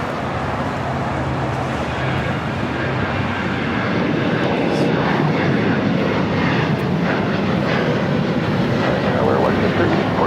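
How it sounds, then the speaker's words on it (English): A jet airliner taking off at Los Angeles International Airport, its engines producing a loud, steady roar that holds for the whole stretch, with faint radio-like voices beneath. "perfect takeoff"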